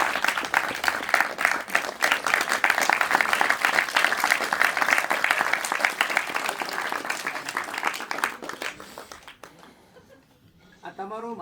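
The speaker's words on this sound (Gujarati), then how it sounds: "એક વખત જોરદાર તાળી પાડી દો" An audience at a cinema welcome event for the cast of the film Laalo in Surendranagar breaks into loud, sustained applause with chuckles and laughter, fading near the end as voices and stray sounds take over.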